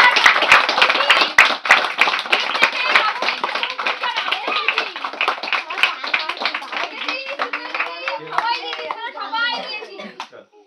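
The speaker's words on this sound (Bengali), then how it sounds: "আস্তে সবাই ধর হাততালি" Hand clapping from a group at a birthday celebration, rapid and uneven, mixed with lively children's voices and chatter, the claps thinning out as talking takes over toward the end.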